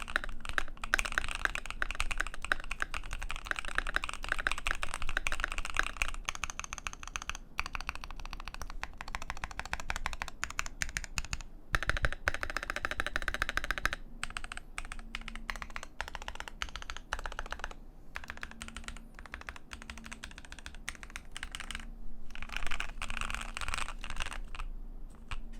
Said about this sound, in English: So let us go ahead and do a quick little typing test.